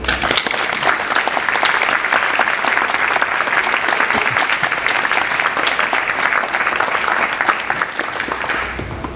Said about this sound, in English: they all deserve a round of applause for the amazing work that they have done and achieved